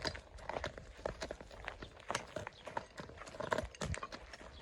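Hooves of a mare clip-clopping steadily on a hard surface as she walks, a regular rhythmic patter heard fairly close, with no talking.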